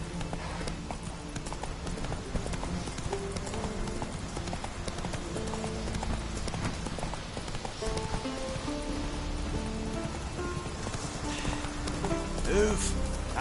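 Horse hooves gallop in rapid clip-clop rhythm in the video game Witcher 3, a steady drumming beneath game music and ambience, with a voice speaking briefly.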